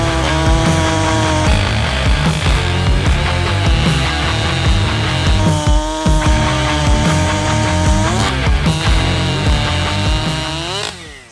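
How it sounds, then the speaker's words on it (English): Husqvarna chainsaw, a 592XP or a ported 372 XPW, running loud and close at high revs throughout, the engine note wavering slightly and dipping briefly before fading out at the end. "I'm going to be running my Husqvarna 592 against my Husqvarna 372 XPW"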